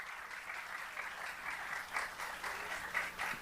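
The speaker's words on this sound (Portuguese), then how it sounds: "Uma salva de palmas para essas pessoas incríveis." Audience applause for a choir at a tenth-anniversary celebration of ACBG Brasil in a legislative assembly hall, a steady dense clapping that carries throughout at moderate, slightly distant level.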